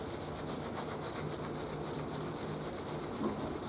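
Steady, close scrubbing as crud is rubbed off the neck of a Musicman Stingray HH bass, a continuous dry rubbing hiss with a faint rhythmic back-and-forth pulse.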